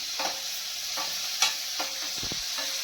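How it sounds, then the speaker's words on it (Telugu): Green chillies fry in a pan for a Telugu ridge gourd peel chutney, giving a steady close sizzle with occasional scraping stirs and soft clinks layered over the hiss, with no talking. "పచ్చిమిర్చి మాత్రం కొంచెం వేగాలి"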